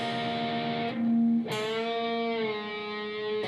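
Electric guitar plays a slow phrase from part 1 of a blues tune, with a few sustained picked notes, a short bent note and a fresh attack ringing out, close and clear with no voices.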